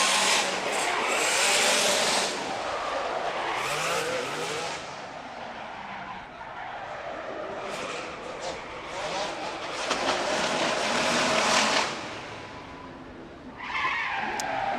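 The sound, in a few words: Pennzoil Ferrari drift car engine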